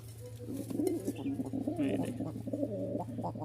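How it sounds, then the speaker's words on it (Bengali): Rajshahi Giribaz pigeons kept in a loft coo softly and repeatedly nearby in low, throaty rolling calls over a steady electrical hum, with a brief flutter and faint voices in the background. "আসেন এখানে আরও এক জোড়া কবুতর দেখাই"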